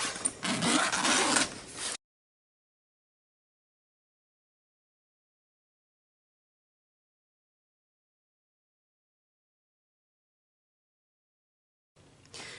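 Zipper on a toiletry bag pulled open in one quick, close rasping run lasting about two seconds, followed by a long silence and a brief second zip near the end.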